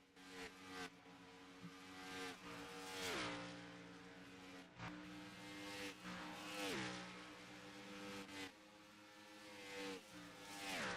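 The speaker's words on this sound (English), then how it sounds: "Let them run around the track, get a feel for these cars." Race cars lapping Homestead in a racing game, engine whine rising through each gear with repeated shifts, revs dropping and climbing again, quiet and without talk.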